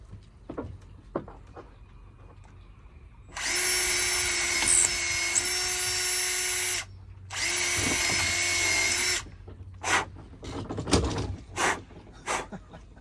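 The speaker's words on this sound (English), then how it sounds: "then we're gonna drill these 2 holes" A power drill boring two holes in wood on a boat under construction, two sustained high whines of several seconds each with a short gap between, followed by brief clunks and handling knocks.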